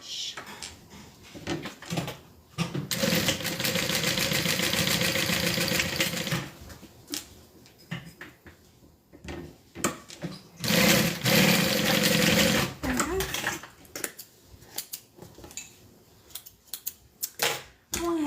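A sewing machine top-stitches a handmade bag in two long steady runs, a loud buzzing whir that stops and restarts, separated by quieter handling clicks and fabric shuffling.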